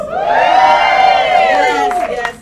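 Audience at a Sisterhood symposium cheering and whooping loudly in a sustained, close burst, with high shrieking voices fading out after about two seconds.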